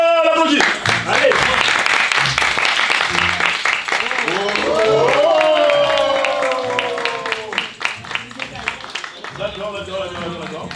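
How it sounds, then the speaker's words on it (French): Studio audience clapping for a contestant at a couples' best-dressed judging show, loud, rhythmic claps running throughout while a voice speaks and music plays over it. "On l'applaudit."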